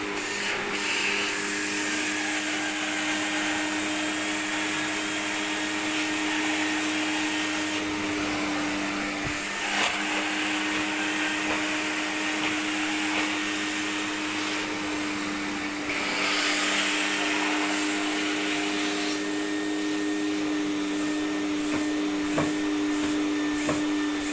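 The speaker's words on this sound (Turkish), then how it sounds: "Sonra buradan 5-6 kere artıya basıp makinenin gücünü en üstte alıyoruz." An Aura CleanMax cleaning robot runs at maximum power with a loud, steady, high-pitched vacuum whine that holds unbroken for the whole stretch, shifting slightly in tone now and then, with no talk over it.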